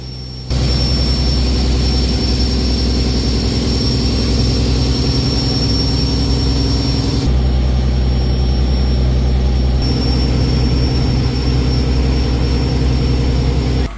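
A fishing boat engine tows a carrier boat lashed alongside it, producing a loud, steady, droning roar with deep low rumble that runs throughout and shifts tone slightly midway, with no talking.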